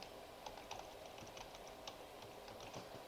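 Quiet, rapid tapping on a computer keyboard as a domain name is entered, steady clicking keystrokes close by over faint room noise, with no talking.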